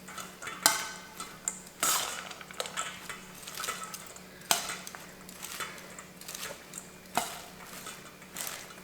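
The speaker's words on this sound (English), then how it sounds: "I'm going to add the cabbage a little bit at a time, tossing it" Shredded cabbage is tossed with a liquid dressing for spicy Asian coleslaw, giving repeated clatters and clinks of utensils against a bowl in irregular bursts, fairly close and with no talking.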